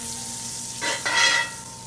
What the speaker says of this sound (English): you can hear that butter sizzle